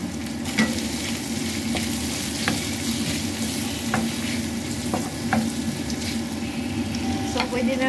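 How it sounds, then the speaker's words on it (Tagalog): White onion and mushroom are sautéed in a pan for a stewed chicken dish, giving a steady close sizzle with scattered light clinks and scrapes as a utensil stirs. "Gisa lang natin guys. Tapos pwede na natin ilagay yung ating mushroom."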